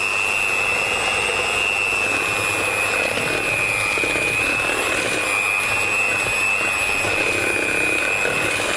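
Electric hand beaters whir steadily as they cream butter and sugar for homemade shortbread, a continuous high-pitched motor whine with a broad, even buzz that holds constant and loud throughout, with no talking.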